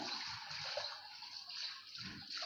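Tap water runs steadily while clothes are being washed by hand, a continuous close splashing hiss with no pauses.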